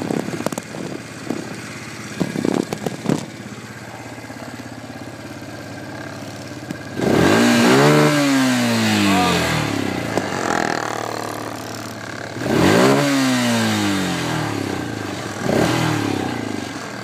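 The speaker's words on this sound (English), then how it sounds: "I'm gonna be showing you what it's like driving a quad in the woods." A quad ATV engine idles steadily while being driven through the woods, then revs up in two loud rising bursts around the middle and end, with scattered clattering knocks beforehand.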